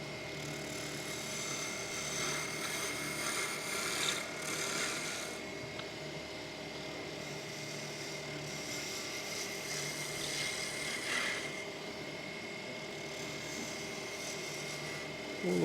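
A woodturning tool cuts spinning wood on a lathe at a turning demonstration. A continuous rasping, scraping drone rises and falls in intensity over the running motor hum, steady and close throughout.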